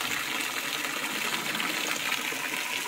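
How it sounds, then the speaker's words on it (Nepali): Water gushes steadily at Doleshwor temple in Bhaktapur, a continuous close splashing flow with no talk over it. "हेर्नुहोस् त पानी कति राम्रो छ"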